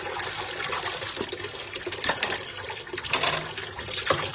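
Dishes and plates are washed under a running kitchen tap, a steady close rush of water broken by irregular clinks and splashes, with no voices.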